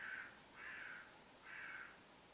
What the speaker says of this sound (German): das ist da irgendwie so eine Krähe, die macht gerade Krach